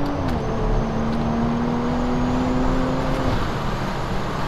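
A BMW 340i pulls hard under acceleration with its wheels spinning, giving a steady engine drone with a rising tone close by and no talk.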